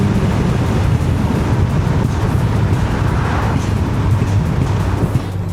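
Engine of a modified Audi S3 in dynamic mode, heard from inside the car with the sunroof open and a microphone held outside; a steady low drone mixed with heavy wind rush, no voices.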